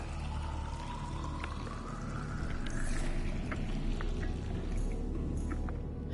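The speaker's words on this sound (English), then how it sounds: "Collect this water." Water pouring and splashing in the Subnautica video game, a steady, close gurgling stream with a rising tone at first and scattered droplet plinks, continuing evenly throughout.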